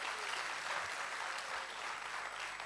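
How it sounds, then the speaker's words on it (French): Steady audience applause fills a closing ceremony for the Clap en Herbe film event, a dense, even wash of clapping at moderate level with no voices over it. "J'aimerais qu'on les applaudisse encore."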